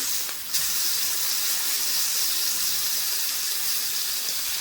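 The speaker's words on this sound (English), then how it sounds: "Just searing it off." Rack of lamb sizzling as it sears in a hot pan, a steady, dense hiss of fat spitting continuously after a brief quiet start, close and fairly loud, with no talking.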